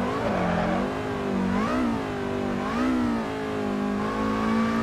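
Race car engine in a racing video game at the VIR circuit, a loud, steady tone that rises and dips as the gears shift down toward third and revs climb again, with no talking.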